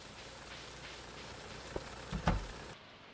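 Steady rain patter falls throughout in the farming video game Stardew Valley, a soft continuous hiss with a few brief taps and clicks near the end before it cuts off.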